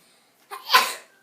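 A single sharp sneeze, brief and close, bursts out of near silence and trails off quickly.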